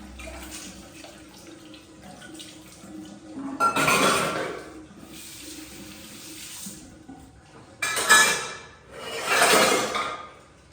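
After tea, dishes and utensils are washed at a sink: running tap water swells and fades in several surges, with faint clinks of pots and plates under a steady background wash.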